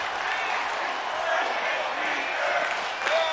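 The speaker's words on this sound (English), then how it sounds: "This is a very angry crowd tonight." A large, angry crowd at a digital pro wrestling video game show roars and jeers in a steady, dense wash of noise, with no let-up throughout.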